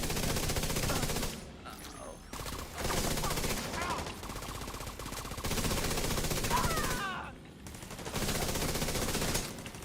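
Video game turret with a wide spread fires in long, rapid automatic bursts, loud and close, separated by short pauses, with a voice talking faintly underneath.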